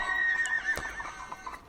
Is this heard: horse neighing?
yes